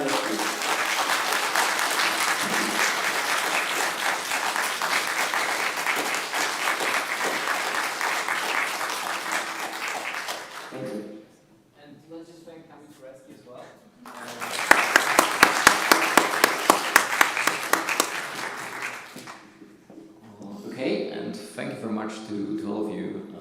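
Audience applause for an ambassador at a panel event on Russia's aggression against Ukraine, a long, full round of clapping that fades into speech, then a second burst of applause with cheering before talk resumes.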